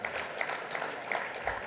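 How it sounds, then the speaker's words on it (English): Audience at a conference session gives a brief burst of applause, a quick patter of clapping from a modest crowd at moderate distance. "Put your hands together, give them a clap."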